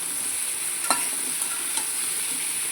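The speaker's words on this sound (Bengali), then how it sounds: "ভালো করে মিশিয়ে নেব নাড়াচাড়া দিয়ে নেব" Hilsa roe curry with tamarind is stirred in a pan, a steady soft sizzle with two or three short scraping clicks from the spoon, close and alone.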